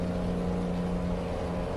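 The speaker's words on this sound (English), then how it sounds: "Truck noise is too loud." A Rezbuilt heavy-hauling truck's engine drones from inside the cab, a loud, steady low-pitched rumble with a constant hum and no speech.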